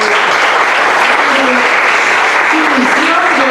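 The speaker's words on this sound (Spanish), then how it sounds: "Denle palmas al Señor" Congregation clapping in a Spanish-language church service, a loud, dense, continuous burst of applause filling the room with voices faintly underneath.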